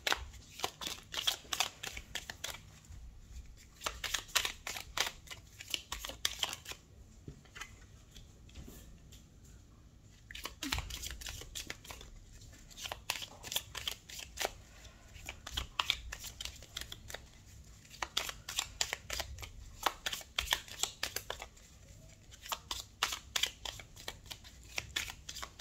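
Tarot cards are shuffled and dealt close up, with fast riffling bursts, soft slaps and slides of cards in uneven clusters separated by brief quiet gaps, fairly faint overall.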